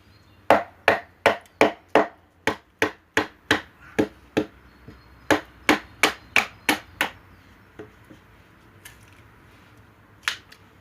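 A bushcraft knife with a reindeer antler handle is battoned through wood: a steady run of sharp, close knocks about twice a second, then a pause and a few scattered blows near the end.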